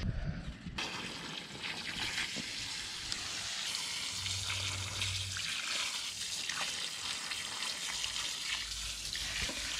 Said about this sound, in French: Maintenant, on va bien arroser en grosse quantité pour favoriser le développement des racines.